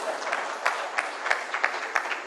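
Audience at an economic forum applauds, a soft, diffuse patter of clapping with some sharper individual claps standing out, moderately distant and fairly quiet.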